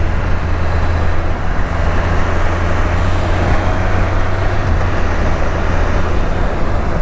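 An old Spider car drives along a road in heavy rain, with a steady, loud wash of tire spray and road noise and a low engine hum running unbroken throughout.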